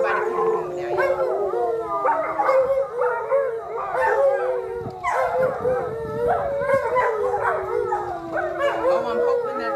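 Several dogs howl in long, wavering, overlapping cries mixed with yips and short barks during a yoga class, loud and close throughout with brief breaks, no speech heard over them.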